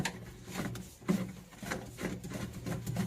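A fixing nut under a washbasin is tightened by hand, making faint, close, irregular rubbing and scraping with a few soft knocks.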